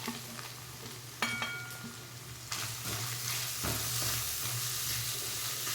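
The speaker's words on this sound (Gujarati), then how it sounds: "આદું લસણ થઈ જાય એટલે આપણે ડુંગળી એડ કરી દેવાની." Onion added to ginger and garlic frying in a pan for palak paneer, with a sharp clatter followed by a steady, close hiss and sizzle and a few scraping stirs.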